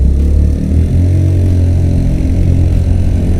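A Honda Navi's small engine revs hard during a race, giving a loud, steady, close-up drone with fluttering low tones throughout.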